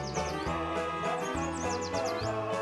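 Birds chirp in a game's nature setting, repeated quick tweets over a steady background hum and layered ambient tones, close and clear.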